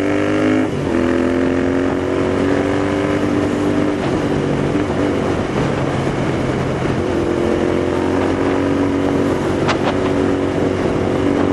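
Royal Enfield Interceptor 650 motorcycle engine droning loudly and steadily while riding, a strong harmonic hum that shifts pitch slightly with throttle changes, wind rushing throughout.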